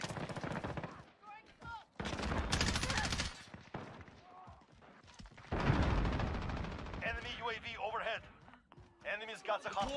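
Automatic rifle fire from an M4A1 carbine in Modern Warfare, loud bursts and rapid volleys in several separate bursts, with voice callouts and game chatter between and over the shots.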